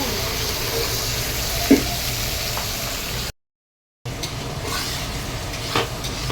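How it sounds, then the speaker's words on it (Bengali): Potatoes frying in a pan for chicken kosha, a steady close sizzle with occasional clinks, broken by a short silent gap before the frying resumes. "আমি এখানে মাংসের আলু ভাজা হচ্ছে"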